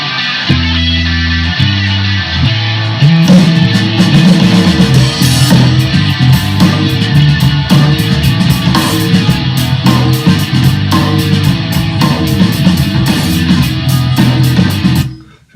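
A dense, loud band mix with scratchy rhythm guitars panned hard to either side, steady chords over drums and bass for the whole stretch, then a sudden cutoff at the end.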